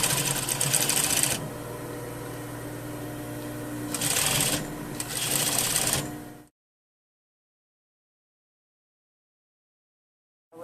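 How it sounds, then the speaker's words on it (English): A sewing machine runs a welt seam on a double welt pocket in three close bursts of fast whirring stitching, then falls to silence. "I'm going to sew on the same seam again, but this time from the beginning of the piece to the end"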